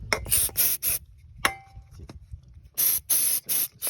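Carburetor cleaner sprayed onto a throttle body during servicing, several loud close hissing bursts of varying length separated by short pauses, with a longer pair of blasts near the end.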